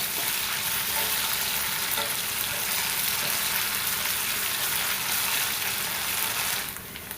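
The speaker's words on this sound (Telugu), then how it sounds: "ఇందులో 1 టేబుల్ స్పూన్ అల్లం వెల్లుల్లి పేస్ట్ వేసి పచ్చివాసన పోయేంత వరకు ఫ్రై" Onions with ginger-garlic paste frying in oil in a pan, a steady dense sizzle running continuously and fairly loud, easing slightly near the end, with no talking.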